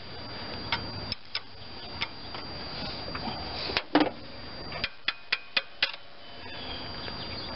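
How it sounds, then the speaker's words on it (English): A torque wrench tightens the tensioner pulley bolt on a 1993 GM S10 pickup with a 4.3 V6, giving a series of sharp metallic clicks, several close together near the end, over a quiet garage background. "Got my torque wrench. Click."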